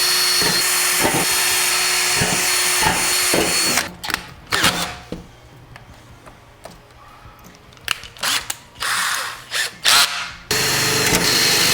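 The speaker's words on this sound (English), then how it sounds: "I'll drill a little pilot hole." A power drill bores a pilot hole in a metal ammo can, its whine buzzing loudly, then breaking into short bursts and pauses before a final steady run.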